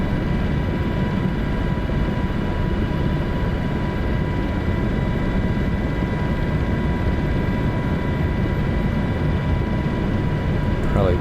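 A small aircraft engine in flight near the Mackinac Bridge, heard from inside the cabin as a loud, steady, unbroken droning hum with a tonal whine.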